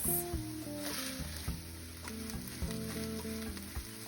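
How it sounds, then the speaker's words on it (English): Dry chopped kale sizzles and crackles in a hot skillet as it wilts, a close, steady frying hiss with intermittent stirring scrapes and soft clinks, no voices. "I'm going to add it to the skillet and wilt it for about 2 to 3 minutes"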